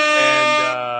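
Air horn sound effect blasts once, loud and continuous for about a second, with a rich, brassy tone that drops slightly in pitch near the end.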